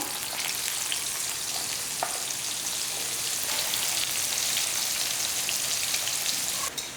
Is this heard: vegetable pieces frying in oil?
yes